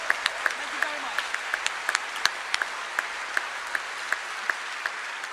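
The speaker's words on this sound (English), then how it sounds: "But you give them all a big round of applause." Applause from an audience at a live show rolls on as a steady crowd clapping wash, with a few sharper individual claps popping out near the microphone at a regular pace.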